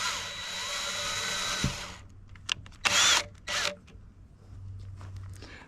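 A power drill driving screws into a homemade raccoon-proof gravity tube deer feeder, a few short whirring bursts after a stretch of steady broadband noise, fairly faint overall.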